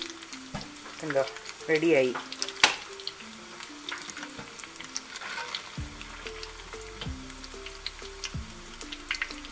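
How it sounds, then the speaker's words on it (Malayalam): Chicken bread rolls deep-fry in very hot oil with a continuous close sizzle and scattered crackles and pops, while a person speaks briefly over the frying. "നമ്മൾ നല്ല ചൂടിലാണ് കേട്ടോ അത് വറുക്കുന്നത്"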